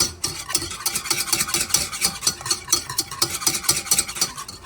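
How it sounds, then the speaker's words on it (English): Cold butter whisked into a hollandaise-style sauce in a pan for eggs Benedict, a steady rhythmic scraping and clinking of the whisk against metal, close and fairly loud, with no voices. "it says to whisk in the cold butter off heat"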